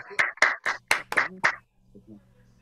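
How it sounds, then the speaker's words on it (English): Open mic audience clapping for performer Pam Waters: about six sharp, distinct claps close by, sparse and uneven like a small group, then a brief quiet tail. "Everybody give Pam a nice round of applause."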